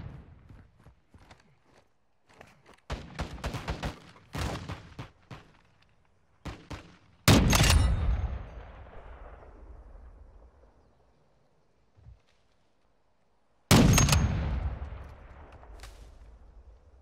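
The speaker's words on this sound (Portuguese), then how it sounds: "bomba anti-bunker?" Anti-bunker bomb strikes in Call of Duty DMZ land as a series of sharp blasts, then two huge booming detonations with long rumbling tails, separated by quiet gaps.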